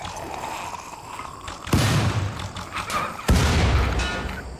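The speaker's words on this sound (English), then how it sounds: "For a corpse explosion, even though it's close to my walls," A corpse explosion in the RimWorld video game, set off close to a colony's walls: two sudden, loud, close blasts about a second and a half apart, each with a crackling rumbling tail over a low background hiss.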